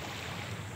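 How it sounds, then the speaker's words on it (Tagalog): Steady broadband wash of surf at a beach in Infanta, Quezon, with constant wind buffeting the microphone, no voices, continuous and fairly loud throughout. "narito tayo sa tabing dagat"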